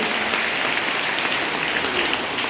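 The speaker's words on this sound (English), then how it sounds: "let's give a huge round of applause for all the doctors out there" Sustained applause from an audience cheering for doctors, a dense, steady wash of many hands clapping throughout with no pauses, fairly loud and even in level.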